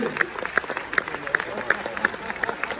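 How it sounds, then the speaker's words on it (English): Audience applause at a stage hypnosis show as a volunteer returns to her seat, moderate and steady with sharp clap transients, fairly near, over a room murmur. "Let's give Donna a big round of applause."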